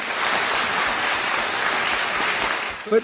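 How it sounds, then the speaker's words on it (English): A debate audience breaks into sustained clapping, a dense, even wash of many hands that carries on alone without voices over it, with a brief bump at the very end. "Wow, they're clapping for that."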